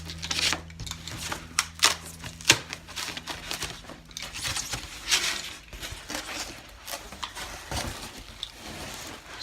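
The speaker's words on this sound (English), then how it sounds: "When you flip it over and cut the back side like that, it allows you to get a clean cut on the foil side" Utility knife blade dragged through the back of foil-faced foam insulation board for garage door panels, giving a run of close, dry crackling and scraping strokes with sharp crinkly peaks, over a steady low hum.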